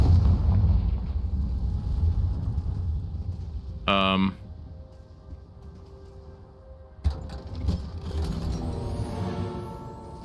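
In a video game, a Confringo fire spell lands with a short, bright burst, followed a few seconds later by a broader rumbling blast, while a person talks throughout.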